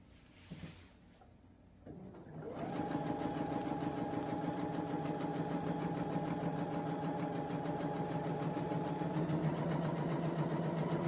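A sewing machine stitching a shirt seam starts after a couple of soft handling noises and then runs in a fast, steady, even whir with rapid needle rhythm, close and continuous to the end.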